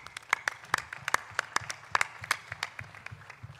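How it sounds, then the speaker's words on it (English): Sparse, uneven handclaps from a small crowd at a boxing championship press conference in Lahore: individual sharp claps spaced irregularly, close and fairly crisp, thinning out toward the end. "So I'd like to hear a round of applause,"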